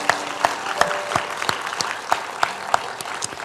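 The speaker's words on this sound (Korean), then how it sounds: "감사와 영광의 힘찬 박수 올려드리겠습니다" Church congregation at a Korean prayer meeting giving a loud, vigorous round of applause, with sharp individual claps standing out from the dense clapping throughout.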